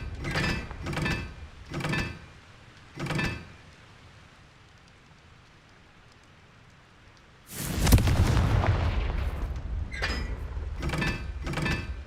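A Confringo fire spell blast in the video game Hogwarts Legacy, a sudden loud burst that rumbles and crackles for several seconds, preceded by short thumps and followed by more quick impacts.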